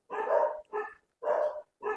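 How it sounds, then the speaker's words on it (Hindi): A dog barks four times in an even rhythm, each bark loud and close with short pauses between, and nothing else is heard. "कुत्ते कोई नहीं, भौंक रहे हैं अब तो।"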